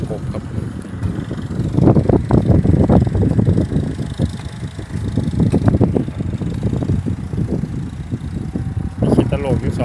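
A New Holland tractor ploughing a sugarcane field gives a steady engine drone mixed with wind buffeting on the microphone, and people talk over it throughout.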